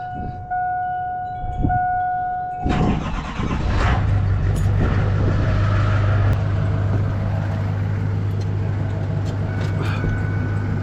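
A classic Ford truck engine cranks and catches at close range, then settles into a loud, steady idle that runs through the rest of the clip, with no talk over it.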